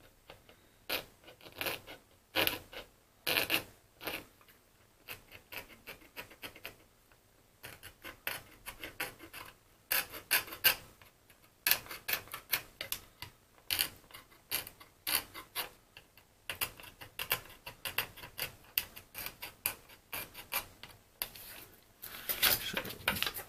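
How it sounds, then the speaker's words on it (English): A hand tool scrapes and clicks against parts of a B&O BeoCom 2 telephone under repair, a long run of quiet, irregular scratchy strokes and small mechanical ticks with brief pauses and no speech. "this seems to be a nice angle to use the tool for scraping"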